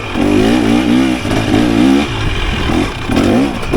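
A 2023 KTM 300 XC TBI dirt bike revving hard on a single-track trail, loud close two-stroke engine surging and easing in repeated waves of throttle.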